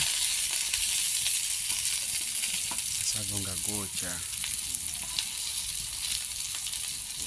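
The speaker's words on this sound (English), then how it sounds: "You fry for a short while and it's done." Termites fry in a tawa pan outdoors, a loud constant crackling sizzle running throughout, with a brief murmur of voices partway through.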